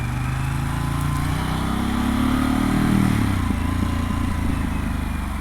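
A motorcycle engine drones steadily while riding out, loud and close. The pitch rises smoothly as it accelerates around the middle, then settles back to a steady cruising rumble.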